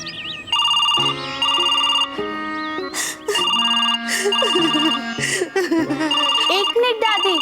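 A telephone ringing with a repeated electronic melodic tone in bursts, loud and close, with a voice and other talk breaking in between and over the rings.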